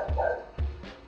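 Dogs bark at a neighbor leaving the house, two or three loud, close woofs spaced out over a second with a steady background hum.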